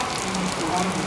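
Heavy monsoon rain pours down at Karjat as a steady, dense hiss of drops striking surfaces, loud and unbroken throughout.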